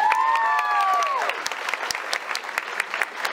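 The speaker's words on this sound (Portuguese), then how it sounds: "Uma salva de palmas." A crowd claps for a few seconds at a civic event for a new health unit, steady dense applause with a brief whistle near the start, then thinning toward the end.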